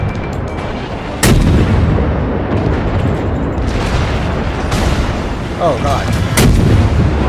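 Naval artillery from a World of Warships battle fires in loud, sharp booms at about 1.3, 4.8 and 6.4 seconds, with rumbling blasts and battle noise sustained between them and a brief voice exclaiming once.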